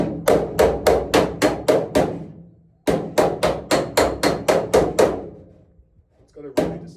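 Rapid hammer blows on a metal car quarter panel, about fourteen strikes in two quick bursts separated by a brief pause, loud and close with a ringing metallic edge.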